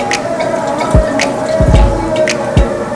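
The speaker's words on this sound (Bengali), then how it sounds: "চাল থেকে জলটা ঝাড়িয়ে নিচ্ছি" Water draining from soaked rice for potato biryani, a few distinct drips and splashes over a soft trickle, close and without talk.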